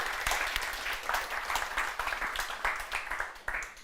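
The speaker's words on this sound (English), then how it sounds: "And I think Volodymyr deserves an applause." Audience applauding a speaker at a lecture event at an institute, a dense steady patter of many hands clapping close by for a few seconds.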